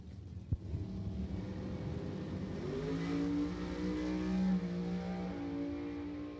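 A centrifugally supercharged drag racing car at an NHRA event at Thunder Valley Motorsports Park, its engine roaring steadily and rising in pitch as it accelerates down the strip, loud and sustained after a brief sharp knock near the start.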